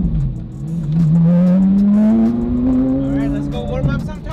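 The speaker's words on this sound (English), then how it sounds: "This car sounds awesome. The straight pipes." Porsche Carrera GT fitted with DDE straight-pipe exhaust revs hard, a loud close engine note climbing steadily in pitch over several seconds and then easing off.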